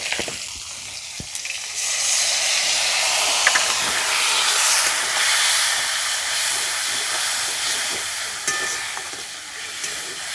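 Spice paste with salt, turmeric and chilli powder frying over low heat for a fennel-flavoured pointed gourd dish, a loud steady hiss and sizzle with light stirring scrapes.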